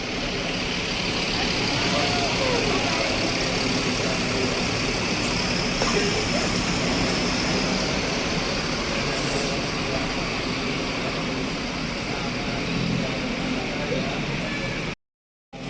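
Heavy engine rumble of a Safari Dharma Raya double-decker bus pulling into a bus shelter, a steady loud drone with traffic noise around it that runs throughout and cuts off abruptly near the end.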